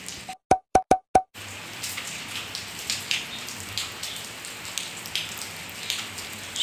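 Rain falls, heard as a continuous hiss with scattered drops plopping nearby, after a brief burst of four sharp electronic tones at the start.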